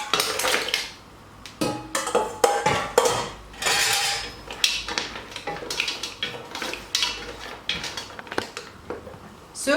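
Cooked mussels tumble back into a pan of chowder sauce, giving close clattering shell knocks and metallic scrapes of a utensil against the pan in irregular bursts, no talk.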